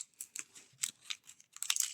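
Scissors snip in a quick irregular series of short, crisp cuts, close and fairly quiet, with soft crinkling between snips while setting up a diamond painting.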